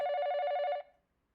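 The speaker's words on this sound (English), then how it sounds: "The phone rang, cutting him off before he could get down to business." A telephone in the video game 428 Shibuya Scramble gives a single loud, steady electronic ring lasting under a second and then cuts off into silence.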